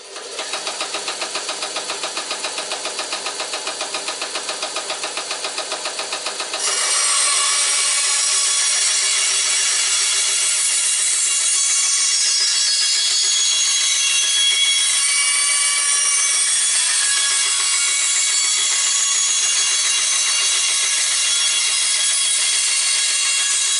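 A Metabo BAS 261 band saw cuts through wood steadily and loudly for the whole stretch; the motor hums first, then the blade bites in with a rising, rasping whine.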